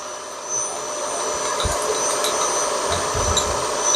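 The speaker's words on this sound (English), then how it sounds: "We're taking almost a full width cut across the cutter." A milling cutter takes an almost full-width cut while squaring the cylinders of an engine block, giving a steady high-pitched machining whine with a continuous hiss and a few low knocks.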